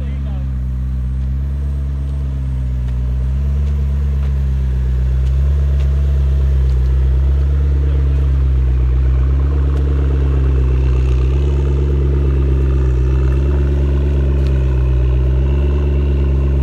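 A McLaren MP4 12C engine on a test drive builds in a low, steady throaty hum that swells gradually from inside the cabin, strong low-end drone continuing throughout without breaks.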